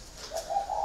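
A single spotted dove, a cuckoo-dove kept as a caged bird, gives a short, soft cooing call up close, with steady low tones and nothing else sounding.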